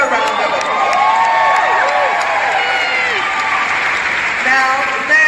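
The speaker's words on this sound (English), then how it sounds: "Give them a round of applause." Loud, sustained applause and cheering from a large crowd at the Women's Convention 2017, with whoops and shouted voices rising over steady clapping throughout.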